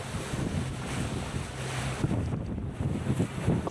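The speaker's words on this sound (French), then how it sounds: "Bon, et nous on se mange des belles vagues." A boat slapping through choppy sea waves on a trip toward Belgium, with rushing water and wind buffeting the microphone in a steady, close roar.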